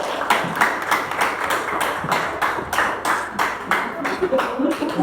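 Applause breaks out in a classroom, a steady run of sharp, closely spaced claps from a small group, close and moderately loud.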